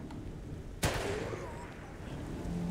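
A single sharp gunshot cracks out in the video game Fallen Aces, followed by a brief ringing tail over a steady low background hum.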